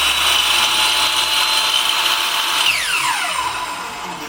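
A power saw runs loud and close while cutting a small piece of wood, a steady high whine that holds and then falls in pitch as the blade slows near the end, with no talk.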